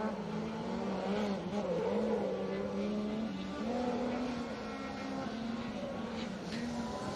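A rally car on the final stage of a Protyre Circuit Rally Championship event drones steadily at a distance, a sustained engine note with slight pitch shifts under faint background noise.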